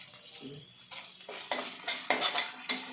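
Ginger-garlic paste with turmeric fries in oil for an egg curry, a soft sizzle punctuated by a series of sharp spoon scrapes and clinks against the pan, close and unaccompanied by speech.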